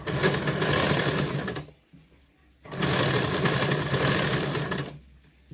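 A sewing machine stitches the neck lining of a blouse in two close, loud bursts of rapid, whirring stitching, divided by a short pause, with a third burst just beginning at the end.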